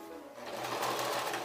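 Sewing machine stitching yarn locks in place, a short, quiet whirring burst of rapid needle strokes that builds slightly and carries on steadily for about a second and a half.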